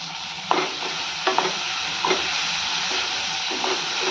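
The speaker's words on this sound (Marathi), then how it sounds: "छान असं परतून घेऊयात" Onion, tomato and spices sizzling steadily in a hot pan for whole masoor curry, with a few sharp scraping clicks of a spatula as the mixture is stirred, close and without any talk.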